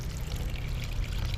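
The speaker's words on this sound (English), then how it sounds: "200 milliliter of water add inside the glass of the blender." Water pours into a blender glass in a steady, close gurgling stream, a short continuous splash with no talking.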